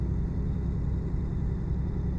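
A loaded truck engine drones in a steady low rumble while climbing a twisty mountain road, the revs sagging slightly as it labors in sixth gear.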